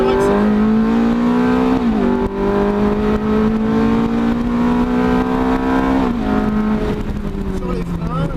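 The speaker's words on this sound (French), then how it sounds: "Je laisse rentrer la voiture patiemment et je réaccélère." A Ferrari race car on track, its loud engine droning steadily with dips as the driver brakes and shifts down, then climbing again as it re-accelerates, heard close and continuously throughout.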